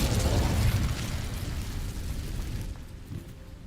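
Spell explosions from Bombarda and Incendio in the Hogwarts Legacy game: a loud, broad, rumbling blast that roars continuously, then fades into a softer crackling tail as it dies away.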